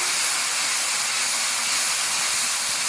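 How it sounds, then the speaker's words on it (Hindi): Garlic-ginger paste and roasted crushed cumin frying in hot oil in a pan, giving a loud, continuous close-up hissing sizzle that holds steady throughout. "इसको हल्का सा फ्राई करेंगे।"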